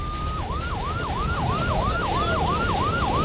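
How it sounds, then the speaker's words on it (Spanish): Ambulance siren wailing in a rapid rising-and-falling yelp, repeating about every 0.4 seconds, loud and steady over a rumbling background of traffic or engine noise, during a scene of war with smoke-filled buildings and casualties. "Esta es otra de las ambulancias."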